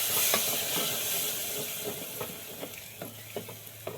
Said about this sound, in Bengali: এর উপরে আমি দিচ্ছি টমেটো পেঁয়াজের পেস্টটা আমি দিয়ে দিচ্ছি। এটা দেওয়ার পর আর কিছুক্ষণ ভাজবো আমি।